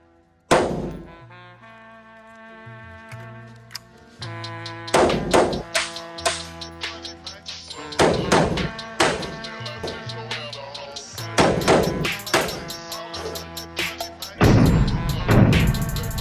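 ATI Omni Hybrid Maxx AR-15 rifle firing outdoors, with about eight loud, sharp shots spaced irregularly across the span. Each report rings out and decays, and the firing happens under a steady background tone.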